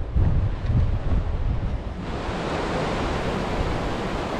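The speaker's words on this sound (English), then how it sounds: "You can hear the sounds of the Dut Koshi River, the primary river that runs up the Khumbu Valley below." Dudh Koshi River rushing through the Khumbu Valley below, a steady broadband roar heard from a distance in the Everest region, with wind buffeting the microphone for the first two seconds before settling into a constant wash.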